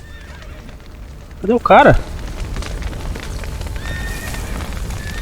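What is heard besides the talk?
horse neighing in the video game The Witcher 3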